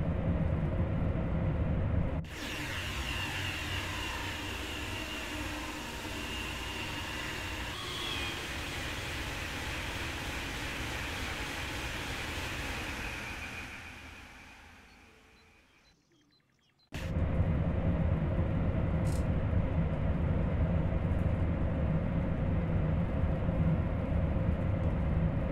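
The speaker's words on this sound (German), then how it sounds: "Den ICE3 im Geschwindigkeitsrausch." An ICE 3 high-speed train in Train Sim World 3 runs at speed with a steady rushing roar and broadband wind noise, fading briefly as if entering a cutting or tunnel before the loud, even rush returns.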